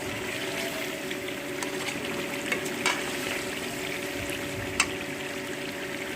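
Chicken karahi browning in a pan gives off a constant close sizzle, with occasional bubbling and a couple of distinct utensil taps as it is stirred; no one speaks.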